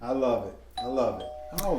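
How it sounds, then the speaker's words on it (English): A doorbell chimes with a clear ringing tone while people speak excitedly over it. "that's the doorbell."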